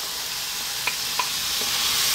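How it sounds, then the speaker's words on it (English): Pureed fresh tomato goes into a hot pan for a prawn curry, giving a steady soft sizzle with a couple of brief clinks from stirring, close and on its own. "Then we're gonna add our pureed fresh tomato."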